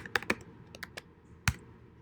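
A handful of crisp keystrokes tap on a computer keyboard, close and spaced unevenly over a low steady background hum.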